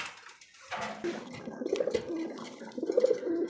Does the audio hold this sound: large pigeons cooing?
yes